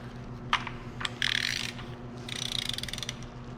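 Ratchet torquing bolts on a built KA24DE turbo engine, heard as bursts of rapid clicking ratchet strokes, close and fairly loud, separated by brief pauses over a steady background hum.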